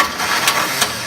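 A John Deere Gator utility vehicle engine runs after repair, a steady close mechanical drone with a couple of brief louder knocks and a hissy wash across the top, heard alone.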